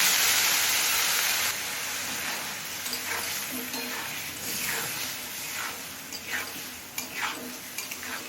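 Raw plantain curry cooking in a pan with chili powder, salt and a splash of water, opening with a steady hissing sizzle that settles into repeated scraping stirs of a spoon against the pan.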